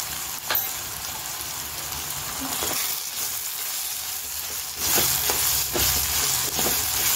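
Vegetables frying in a pan with turmeric powder for pasta, a steady close sizzle broken by several scraping stirs, growing louder and busier in the last seconds.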